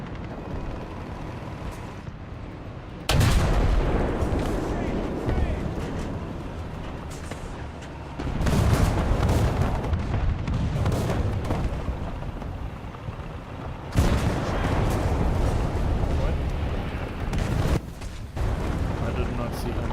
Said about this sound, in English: That is some very early preemptive artillery there